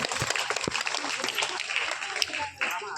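Crowd claps loudly for a young schoolboy about to recite a short poem, dense irregular applause that briefly dips near the end before picking up again.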